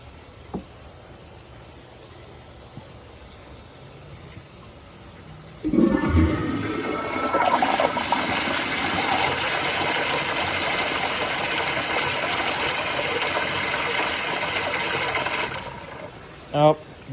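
A Kohler Kingston wall-mounted toilet flushes with a sudden loud rushing gush that holds steady for about ten seconds, then stops abruptly, followed by a couple of faint knocks.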